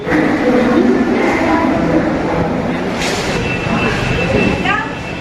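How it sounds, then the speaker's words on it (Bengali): A Howrah–Jaleswar MEMU special local train rumbles close by on the rails, loud and steady with faint squeals and clatter, while people talk nearby. "এই হচ্ছে বন্ধুরা আমাদের ট্রেন হাওড়া জলেশ্বর মেমু স্পেশাল"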